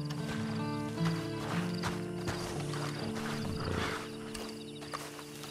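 A horse in the Red Dead Redemption 2 video game clops along steadily with a brief whinny, set against a sustained musical score and low ambient tones.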